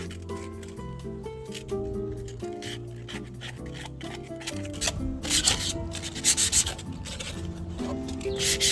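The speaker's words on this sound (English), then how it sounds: "I'm going to use sandpaper to give it a distressed look." Sandpaper is rubbed by hand over a painted wooden spice rack, a close, continuous rasping scrub that grows louder and more vigorous partway through, over a soft tonal background.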